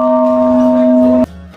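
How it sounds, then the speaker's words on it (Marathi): A single bell at the Bhuleshwar Mahadev temple is rung once and sustains a loud, clear ringing tone. The tone cuts off abruptly after about a second, leaving faint background sound. "मंदिराजवळ पोहोचताच आपण घंटा वाजून तिथले वातावरण अजून प्रसन्न केले।"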